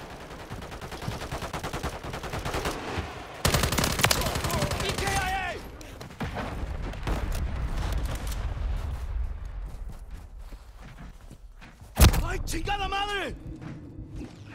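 Multiplayer Call of Duty MW3 gunfire with sniper shots, loud bursts of rapid fire and sharp single cracks across a busy battle, with players talking over the action.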